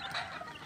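Chicks and roosters cluck briefly at their feeding trough, a soft, close flurry of fowl calls with no talking.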